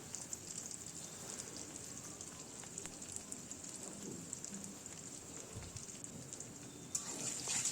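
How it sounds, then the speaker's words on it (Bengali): Sliced onion and a few slit green chillies fry in a pan of hot mustard oil, giving a steady, soft sizzle and crackle throughout, fairly quiet and close with no talking. "তারপরে দিয়ে দিচ্ছি এখানে একটা কেটে রাখা পেঁয়াজ"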